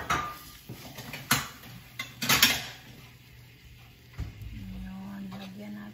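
Small saucer plates clink and clatter in a home kitchen with a few scattered sharp knocks, loudest in a cluster near the start, while people talk in the background.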